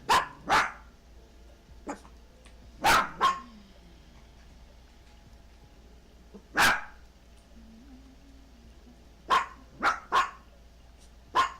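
A dog barks in scattered single and double bursts, close and loud, with quiet gaps between them over a low steady background hum.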